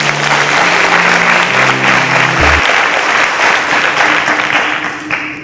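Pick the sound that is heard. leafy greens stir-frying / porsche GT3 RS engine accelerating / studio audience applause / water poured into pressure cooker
studio audience applause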